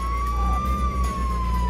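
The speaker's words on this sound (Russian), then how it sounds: "Я сейчас сирену врублю." A police siren in the video game Contraband Police wails with a steady, slowly gliding tone over a low vehicle engine rumble, loud and close, with no talking.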